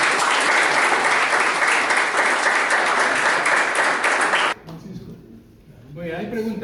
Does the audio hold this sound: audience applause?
yes